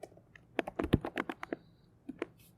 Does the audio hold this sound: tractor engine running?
no